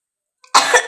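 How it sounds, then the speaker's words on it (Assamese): After a moment of silence, a person with a bad cough at home lets out one harsh, close cough that runs to the end. "কাহে বেলেগ ধৰিছোঁ"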